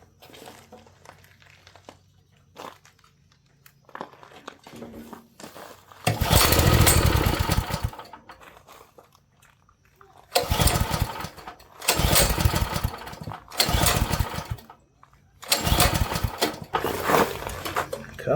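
A garden tiller's small engine is pull-started on choke: several bursts of sputtering engine noise, each lasting a second or two, separated by quiet pauses, with the engine never settling into a steady run.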